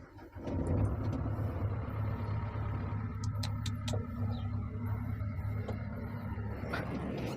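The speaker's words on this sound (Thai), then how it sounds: "เอาเสียงเครื่องครั" A Kobelco SK200-8 excavator's heavy diesel engine idles with a low, steady rumble, punctuated by a few faint clanks and squeaks nearby.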